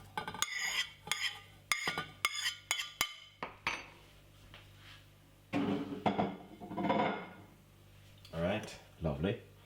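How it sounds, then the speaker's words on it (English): Freshly grated ginger scraped into a cup of water, heard as a run of quick metallic scrapes and clinks of a utensil against a cup or pan, followed by a person talking with softer scraping underneath. "what you're going to do is gonna scrape that beautiful ginger which you just grated"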